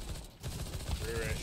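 Rapid gunfire from Counter-Strike rattles through a dense, steady wash of game noise, the shots blurring into a continuous burst over a short stretch.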